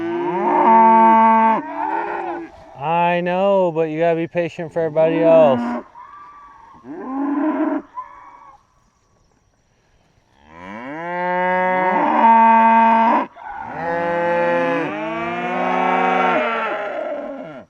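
Loud, drawn-out cow moos come in several long calls with short gaps between them, and a person speaks briefly among them.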